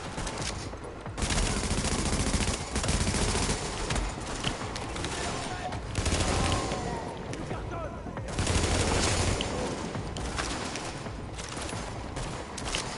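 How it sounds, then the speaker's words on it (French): Gunfire crackles in bursts through the Dark Zone of the video game The Division, with repeated rapid shots and fusillades over dense game ambience across the stretch. "Tu entends les tirs qui se trouvent dans la Dark Zone."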